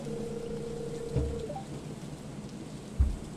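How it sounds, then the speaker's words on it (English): Steady rainfall with a couple of low thunder rumbles in the video game Stardew Valley, one about a third of the way in and another near the end. "A warm rain is a pleasant way to get clean"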